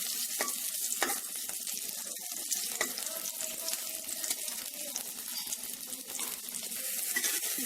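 Onion pieces fry in oil with a soft, continuous sizzle and scattered small pops, no voices.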